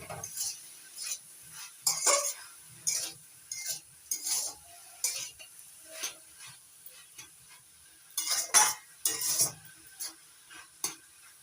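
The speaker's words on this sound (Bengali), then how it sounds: "লবণটা ভালো করে মিশিয়ে নিচ্ছি শাকের সঙ্গে" Spinach with prawns being stirred in a pan, a spoon scraping and clinking against the metal in irregular bursts over a faint sizzle, close and moderately loud, with no voices.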